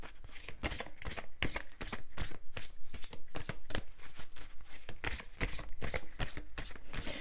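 Tarot cards are shuffled by hand in a steady run of crisp riffling bursts, close and clear, repeating about every half second with no talking.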